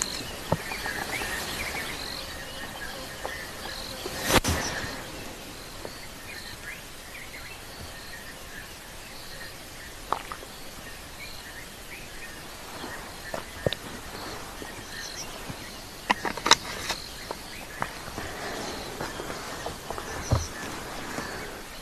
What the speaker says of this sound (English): All the birds, still quite a lot of frogs calling.